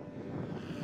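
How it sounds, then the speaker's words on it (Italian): A model airplane's engine drones steadily as it lifts off at an airfield, a close, constant propeller hum with no voices over it. "Sergio Filippini, che ha collaudato questo aereo, ha deciso di alzarlo in volo così all'improvviso"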